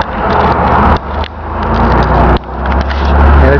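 A 1979 Pontiac LeMans two-door coupe driving along, its engine and muffler giving a loud, close rumble that swells and dips with a couple of abrupt drops, no talking.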